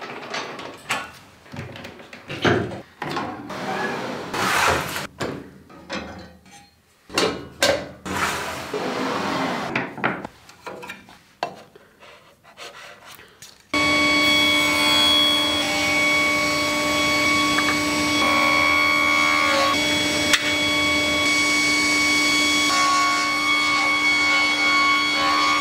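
Scattered knocks and handling clatter, then a power saw starts and runs steadily milling a groove in wood for a drawer, loud with a constant high whine until the end.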